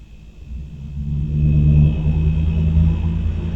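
A vehicle coming down Blake Avenue and turning onto Taylor, a low rumbling engine that swells up from quiet and holds steady, heard from some distance with no voices.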